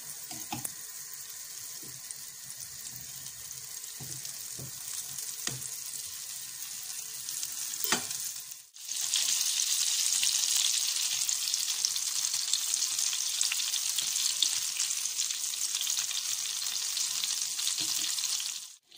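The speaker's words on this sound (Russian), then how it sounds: "Берем вот такой жирный кусок масла и растапливаем." A chunk of butter melts and sizzles in a pan, first with scattered crackles and pops, then after a brief pause a loud, dense, continuous frying hiss that holds steady to the end.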